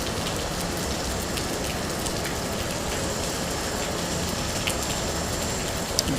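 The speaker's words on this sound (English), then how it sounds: "you can see the rain pattering on the compass rose there that's in the pavement" Rain pattering on outdoor pavement with a compass rose at Dallas Love Field on a rainy morning, a dense, even hiss of drops with scattered sharper taps, steady throughout and without voices.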